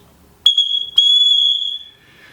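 A whistle is blown twice: a short shrill blast, then a longer steady high tone that slowly fades, loud and close with no talking.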